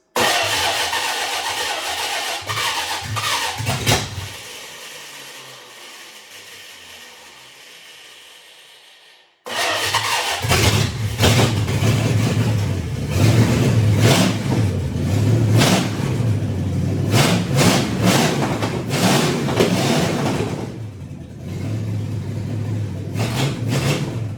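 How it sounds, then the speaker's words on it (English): A car engine, a Ford Satellite or Mustang with a faulty starter, cranks and catches, falls quiet briefly, then restarts and runs loudly with repeated revs rising and falling before settling toward idle. "We can't say too much from that, but it runs, it revs"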